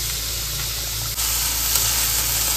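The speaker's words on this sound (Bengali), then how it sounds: "সবজিটাকে ভালো করে একটু হালকা ভেজে নেব" Cauliflower and beans frying in a pan, a steady loud hissing sizzle held close throughout with a faint clatter midway and no talk.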